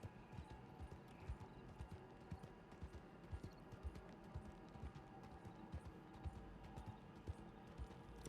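Steady clip-clop of horse hooves in a video game, a quick, even rhythm, fairly faint, with no talking.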